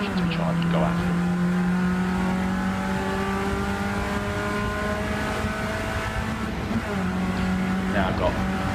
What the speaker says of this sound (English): bit of oversteer there as we get on the throttle too hard